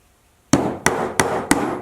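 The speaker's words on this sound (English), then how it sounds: "hammer them in." Nails are driven into pre-drilled 1/8-inch holes in wood for a soap cutting system, four sharp, close hammer blows at an even, steady rhythm after a brief silence.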